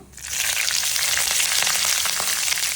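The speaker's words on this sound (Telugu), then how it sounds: "నేను ఇందులో ఫస్ట్ పచ్చిమిర్చి వేసేస్తున్నాను" Green chillies dropped into hot oil set off a sudden burst of sizzling that quickly turns into a steady, loud, close crackle with no voices.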